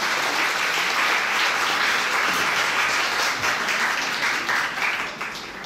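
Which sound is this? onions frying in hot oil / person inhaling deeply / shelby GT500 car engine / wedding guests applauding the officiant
wedding guests applauding the officiant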